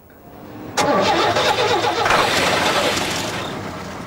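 An old Chevrolet car engine cranks and catches with a sharp start, then settles into a steady, fairly loud running rumble that slowly eases.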